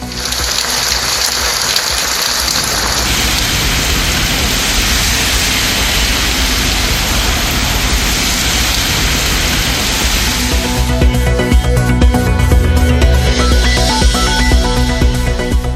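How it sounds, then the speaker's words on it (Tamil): Heavy rain pours down in Chennai as a loud, steady, broadband hiss that holds throughout, its texture shifting partway through with no voices heard. "சென்னை மற்றும் அதன் புறநகர் பகுதிகளில் கனமழை"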